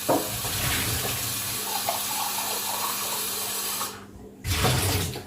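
Water pours steadily in a continuous splashing rush while making Greek coffee, briefly cutting out near the end before resuming.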